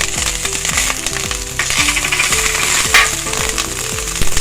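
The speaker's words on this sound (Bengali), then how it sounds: "1 চামচ পরিমাণ রসুন কুচি দিয়ে দিই। আমি কাঁচামরিচ কুচি দিয়ে দিলাম" Chopped garlic, ginger and green chili frying in hot oil for a restaurant-style chicken Manchurian, a steady close sizzle with repeated sharp clinks of a utensil against the pan throughout.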